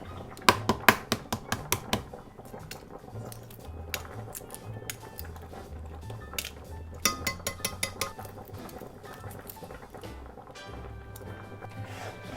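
Eggs boiled in a pot are taken off the heat and peeled in a kitchen, with sharp clinks and taps of pot and shell at first, then quieter tapping and faint handling over a low background hum.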